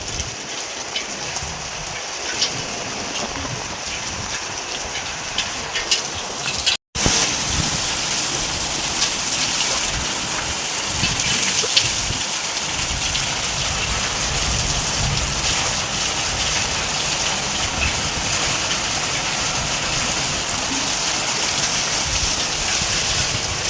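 Constant, heavy rainfall hisses and patters on surfaces, unbroken apart from a momentary dropout early on.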